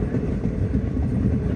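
Train rolling into Anantnag station in Kashmir, a loud, continuous low rumble of wheels and carriages heard from on board, with no voices.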